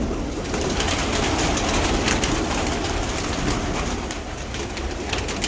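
Pigeons in a loft coo and rustle in a dense, steady wash of sound that stays close and continuous, with no voices.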